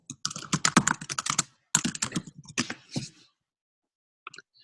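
Rapid clacking keystrokes on a computer keyboard, a dense burst of typing followed by a shorter second run and a couple of stray taps, close and clear with no talk.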